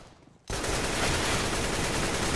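Gunfire in CS:GO competitive play, starting suddenly after a quiet moment and continuing as a loud, dense, sustained wash of shots and game noise with no break.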